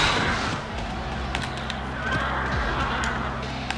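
A horse neighs in the Dynasty Warriors 4 battle game, heard amid a dense wash of battlefield noise, hoof clatter and scattered clashes.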